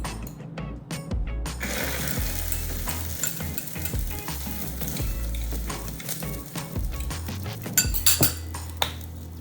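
Egg frying in a pan for a quick breakfast sandwich, a soft steady sizzle broken by close clinks and scrapes of a utensil stirring against the pan.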